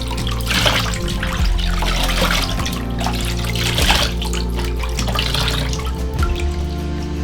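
Face washed with plain water at a sink, a continuous close splash and trickle with hands scooping and rubbing, steady and fairly loud.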